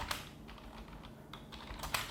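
Soft, quick keystrokes on a computer keyboard as a message is typed, a brief irregular patter of clicks, fairly faint and close over low background hum.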